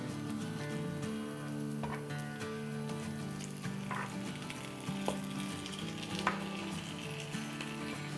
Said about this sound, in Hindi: अब हम इसमें अपनी चिकन डाल देते हैं